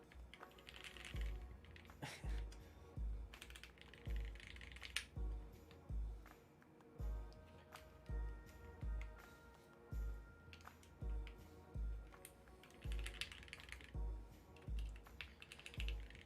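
Typing on a HEX 3CV2 keyboard fitted with CJ switches, a close, steady run of clacky keystrokes in rhythmic bursts with brief pauses, no talking.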